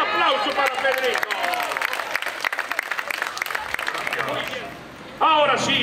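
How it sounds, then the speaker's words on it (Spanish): Audience applause at a puppet theatre show, sustained clapping from a crowd mixed with a voice and someone speaking over it, dropping briefly before voices return loudly at the end. "Un aplauso para Pedrito"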